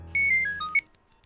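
A phone ringing in a Hindi TV drama: a short, bright electronic ringtone of several stepped melodic notes, loud and close, cutting off abruptly after about a second.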